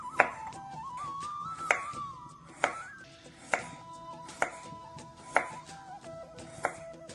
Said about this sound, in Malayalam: ഇനി നമുക്ക് അരിഞ്ഞു കാണിക്കാം. ഒരേ കനത്തിൽ അരിയണം